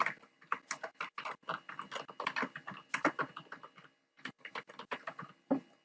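Steady, close keyboard typing with rapid clicking keystrokes, pausing briefly partway through before the tapping resumes.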